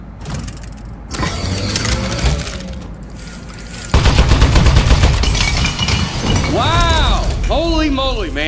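Turret gunfire and breaking mechanical clatter in the Aperture Desk Job video game, loud bursts and crashes followed by synthetic robotic warbling, with a voice talking over parts of it.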